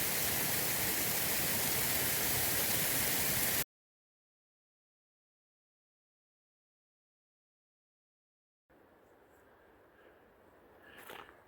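A cascading waterfall in the Glacier Peak Wilderness gives a loud, dense, rushing roar for a few seconds. It cuts off abruptly to silence, then returns as a much fainter, distant wash.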